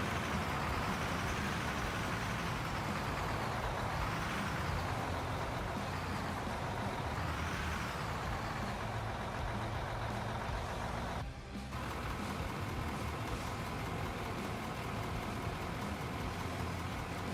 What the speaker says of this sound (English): I'll just pull the truck back forward over here.